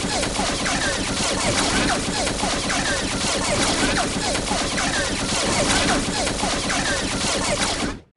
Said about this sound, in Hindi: फिर एक साथ ही बाबा पर निशाना लगाते हैं और एक साथ ही फायरिंग शुरू करते हैं।